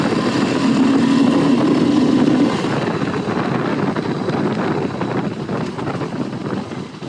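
Motorcycles ridden outdoors by a lake, a steady loud engine drone mixed with heavy wind buffeting the microphone throughout.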